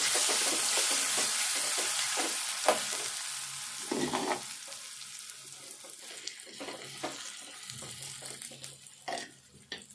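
Boiled amaranth leaves tipped into a sizzling tempering and stirred, a soft frying hiss with scattered clicks and scrapes of a spoon against the pan, plus one louder clatter, fading gradually.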